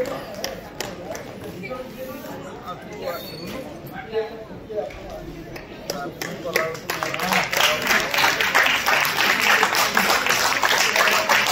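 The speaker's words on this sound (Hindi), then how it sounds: "विराट करताली से" Audience applause rises at a 55th marriage anniversary cultural program in Odisha, with scattered claps under speech that swell into dense, sustained clapping over the final seconds.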